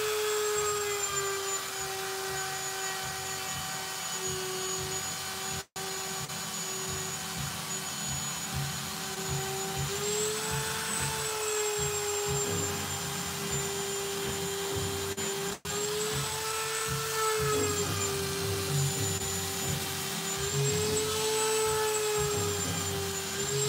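A Dremel rotary tool with a narrow, pointed Christmas-tree-shaped bit carves custom Spawn armor. It gives a steady, close, high-pitched whine that runs continuously, broken only by two split-second drops.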